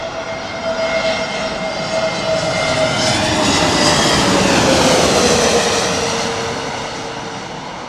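A jet airliner on arrival roars overhead at an airport, a broad loud rumble that swells toward the middle and slowly fades, with no voices.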